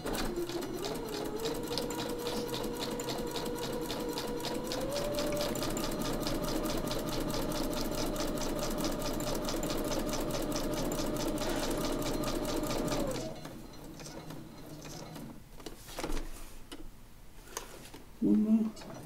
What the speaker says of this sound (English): I've got my sewing machine here and we're ready to go